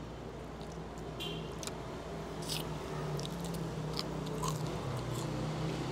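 Someone bites into and chews crispy pata, Manila's fried pork knuckle, with faint, scattered crunches and mouth sounds over a quiet restaurant background.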